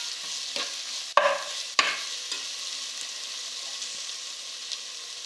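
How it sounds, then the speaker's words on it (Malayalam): Onion, tomato and ginger-garlic paste fry in a pan while being stirred, giving a steady soft sizzle broken by a couple of sharp spoon knocks and scrapes near the start, close and unaccompanied by talk. "അതിലേക്ക് നമുക്ക് ഇഞ്ചും വെളുത്തുള്ളിയും പേസ്റ്റ് ഇട്ട് കൊടുക്കാം നന്നായിട്ടൊന്ന് ഇളക്കിയെടുക്കാം"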